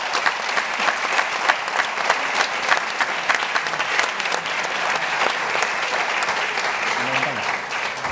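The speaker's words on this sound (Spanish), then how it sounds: "Yo solo pediría un fuerte aplauso para todo ello." A forum audience on sustainable tourism breaks into a long, steady round of applause, dense and even clapping that fills the room, with a voice faintly speaking beneath it near the end.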